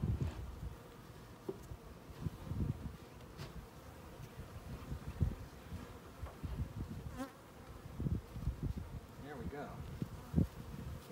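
Honey bees buzz around an open hive while a feeder is fitted, a faint, steady drone of many insects with individual bees passing close, along with occasional rustling and handling noises.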